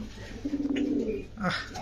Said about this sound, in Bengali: কি সুন্দর কবুতর গুলো